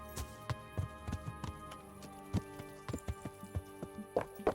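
Horse hooves clip-clop along in the medieval game Kingdom Come: Deliverance, a steady run of close, distinct hoof strikes with an uneven walking rhythm and a faint tonal backdrop.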